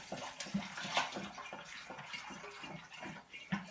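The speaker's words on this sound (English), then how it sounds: "let's pour what we've mixed into our fermenter" Homemade mead mixture pours into a primary fermenter over a sink, a steady, soft gurgling splash of liquid running continuously for a few seconds, fairly quiet and with no voices.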